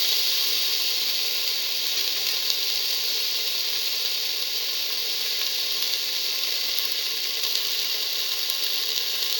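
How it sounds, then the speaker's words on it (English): A ginger, garlic and chili mixture sizzling in a hot pan for a split pigeon pea and potato stew, a constant bright hiss and fizz that stays even and steady throughout, close, with no talking. "Put in the ginger, garlic, chili mixture."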